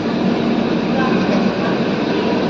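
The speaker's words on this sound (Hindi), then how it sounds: "फर्रुखाबाद गोमती नगर, ये उत्सर्ग एक्सप्रेस है।" Utsarg Express passenger train running steadily, a continuous loud rumble of rail and carriage noise heard from inside the coach with no clear breaks.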